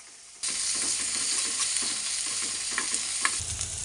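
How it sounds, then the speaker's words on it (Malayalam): Turkey berries sauté in a hot pan for pickle, giving a steady loud sizzle with repeated scraping and stirring strokes against the metal, continuous and close with no talking. "നമ്മൾ ഈ ചുണ്ടയ്ക്ക് ഒന്ന് വഴറ്റുന്നത്"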